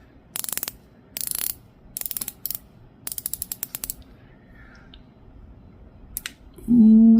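Spinnaker Boettger watch bezel turned in quick bursts of crisp ratchet clicks, close and bright, with pauses between turns and a brief low voice hum at the end.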